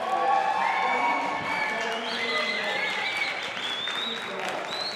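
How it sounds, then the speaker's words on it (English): An audience claps and cheers at the World Barista Championship in Athens, sustained applause with shouts and whistles rising over the crowd noise. "And once again, a huge round of applause for the barista champion representing Saudi Arabia, Ahmed Abdelaziz."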